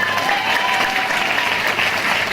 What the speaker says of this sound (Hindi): तो जितना अच्छा लग रहा है उतने ही तालियों के साथ बताइए